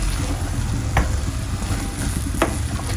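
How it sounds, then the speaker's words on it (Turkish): Onions and mushrooms sautéing in a pan, a loud continuous sizzle with two sharp utensil scrapes against the pan, close up and without speech. "Onu da kavuruyorum mantarla birlikte."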